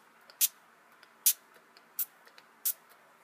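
A hand spray bottle mists water onto an American Girl doll's hair in four sharp, close bursts spaced roughly evenly apart, with near silence between them.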